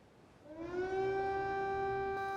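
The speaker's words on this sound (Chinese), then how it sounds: "乌克兰首都基辅再度响起空袭警报" An air raid siren sounds over Kyiv, rising in pitch and then holding a steady, loud wail that carries on without any voices.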